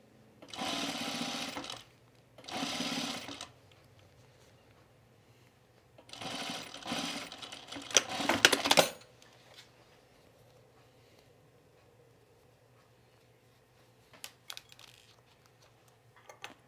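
Pajama bottoms run through a sewing machine in several short, whirring stitching bursts, close and fairly loud, broken by quiet gaps, with faint clicks and handling noises near the end.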